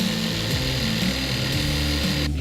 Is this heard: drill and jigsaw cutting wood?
yes